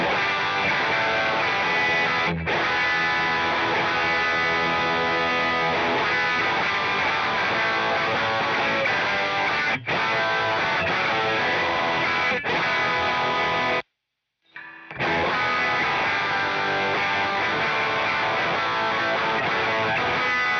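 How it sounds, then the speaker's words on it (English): A heavily distorted electric guitar through a Boss Power Stack distortion pedal plays continuously with a thick, saturated, buzzing tone, broken by one brief silent gap near the end. "let's get the pedal to a level where it gets about the same amount of"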